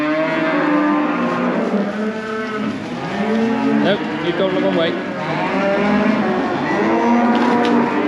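Cattle mooing repeatedly and loudly at close range while being loaded onto a truck, long lowing calls overlapping one another, with a brief spoken remark partway through.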